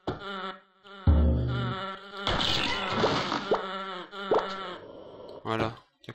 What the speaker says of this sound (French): C'est en train de nous faire un concerto, les mouches, là.